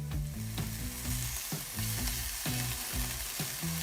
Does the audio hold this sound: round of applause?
no